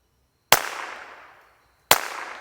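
Two sharp, suppressed .22 rifle shots fired into dirt at 100 yards through a Banish 22K V2 suppressor, spaced about a second and a half apart. Each crack is close and clear, with a long fading tail outdoors and no talk.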